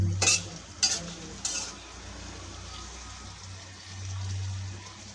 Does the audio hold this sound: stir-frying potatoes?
yes